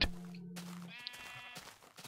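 Sheep bleating in the Minecraft video game, a single short wavering bleat in the middle of a brief stretch, fairly clear and close with little else around it.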